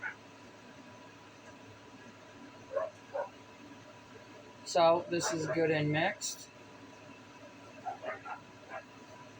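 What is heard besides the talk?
husky dog barking outside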